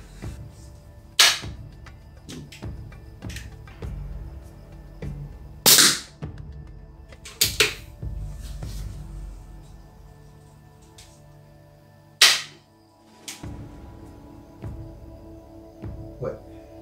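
Beeman P17 air pistol fired at 10 m on a shooting range: several sharp, isolated cracks spaced seconds apart, each a brief loud snap, with a person talking quietly in between.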